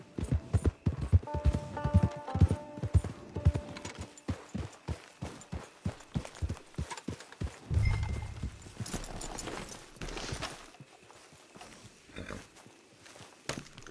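Horse hooves clip-clop steadily in Red Dead Redemption on PS4, a quick rhythmic trot that slows and thins out, with a brief louder rumble midway.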